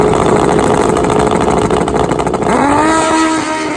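Turbo nitrous 400-horsepower Hayabusa street bikes launch in a drag race in Australia, with a loud sustained engine roar and a rising rev near the end, close and continuous.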